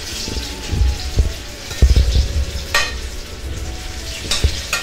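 Eggplant fries in a pan with salt and spices, a continuous crackling sizzle broken by several louder spatters and stirring knocks, close up and without talk.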